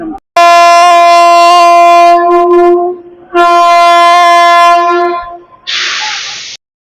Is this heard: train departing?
yes